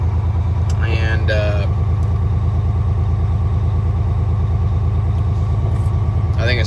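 A truck engine runs steadily at about 1100 RPM during a roadside regen, giving a deep, pulsing diesel drone close by. A voice speaks briefly over the engine near the start and again at the end.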